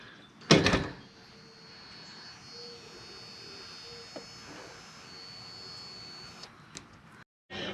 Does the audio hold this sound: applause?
no